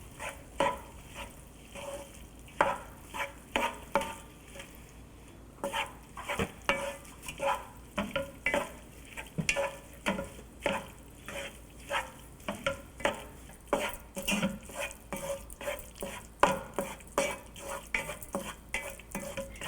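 Chopped tomato sautéing for butter chicken, a continuous sizzle broken by a steady run of rhythmic scrapes and taps as a spoon stirs and presses against the pan, close and fairly loud throughout.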